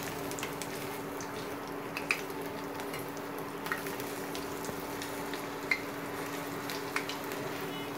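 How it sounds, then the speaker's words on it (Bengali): Spiced ash gourd pakoras fry in hot oil, giving a faint, steady sizzle throughout with occasional small pops and ticks. "এগুলো আমি বাকিগুলো সবগুলো ভেজে নিচ্ছি"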